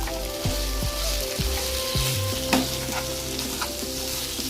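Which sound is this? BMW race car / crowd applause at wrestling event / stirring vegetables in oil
stirring vegetables in oil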